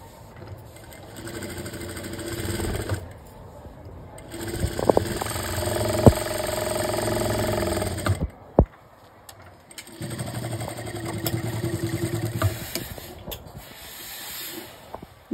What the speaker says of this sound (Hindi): इस तरीके से आप मार्क के ऊपर से ही सिलाई लगा देनी है।